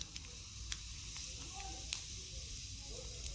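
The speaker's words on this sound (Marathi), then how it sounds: "आता जिरं मोहरी छान तडतडलं" Mustard seeds and cumin crackle in hot oil in a kadhai, a faint steady sizzle dotted with sharp scattered pops and ticks.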